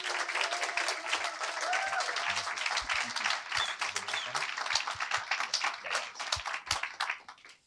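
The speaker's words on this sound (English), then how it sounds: "So let's give a huge round of applause to Joseph." Conference audience applauds a speaker at a youth-focused talk event, a dense, steady wash of many hands clapping that fills the room for several seconds before thinning out at the end.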